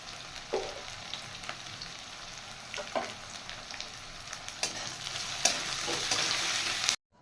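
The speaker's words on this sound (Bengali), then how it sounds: "তেল গরম হয়ে গেছে, এবার আমি পেঁয়াজগুলো দিয়ে দেব।" Sliced onions frying in hot oil in a wok, with a steady dense sizzle that builds slightly over time, a few stirring scrapes, then an abrupt stop.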